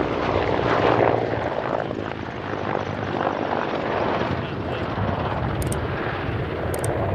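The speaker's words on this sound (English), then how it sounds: "This extremely rugged, extremely capable battlefield helicopter" A Hungarian Air Force Mil Mi-24P Hind attack helicopter flies a display at RIAT 2022, its rotor and turbine roar loud and continuous with a rumbling wash, heard outdoors from the crowd line.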